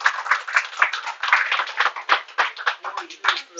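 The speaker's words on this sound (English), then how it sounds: "Give Terry a round of applause." A crowd applauds the golf course owner at an outdoor Saturday tournament event, with steady dense clapping lasting the whole stretch, close and lively.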